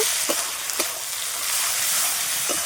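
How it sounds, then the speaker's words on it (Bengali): Spice paste with turmeric and salt sautéing in a pan for a jackfruit and sea crab dish, a bright continuous sizzle with a few light spatula scrapes and stirs spaced through it, no talking. "পরিমাণ মতন হলুদ দিয়ে দেবো পরিমাণ মতো নুন দিয়ে নেব নিয়ে মশলাটা খুব ভালোভাবে কষিয়ে নেব"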